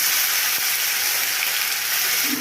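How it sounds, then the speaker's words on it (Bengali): Potatoes frying in a pan, a steady dense sizzle of hot oil that holds evenly and loudly throughout, close up and without any voices. "আলুগুলো ভেজে নিচ্ছে"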